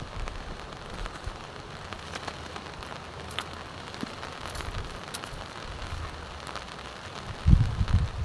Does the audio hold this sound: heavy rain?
yes